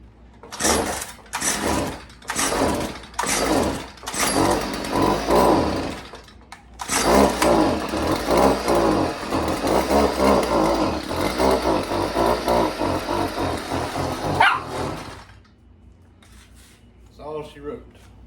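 Small engine running on its old carburetor: it sputters through several short bursts, then roars steadily for several seconds before cutting out, followed by faint clicks.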